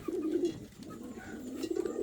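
Indian fantail pigeons coo in a soft, low, steady murmur that carries through the whole short stretch, with several rolling coos following one another at close range and no talking.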